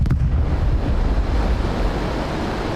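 Aircraft engines in Microsoft Flight Simulator 2024 give a loud, steady, broadband roar with heavy low rumble. It stays close and unbroken throughout, with no talk over it.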